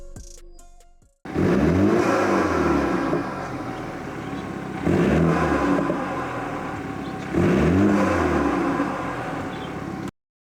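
BMW 3 Series F30 with a performance mid pipe and new exhaust bracket starting up, the engine catching after a brief crank and then idling with three rising revs, loud and close.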